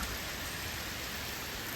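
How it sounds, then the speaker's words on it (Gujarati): Steady heavy monsoon rain in Porbandar district falls and patters on surfaces, a constant hiss with no voices. "હજી વરસાદ આમ બંધ જ નથી રહ્યો"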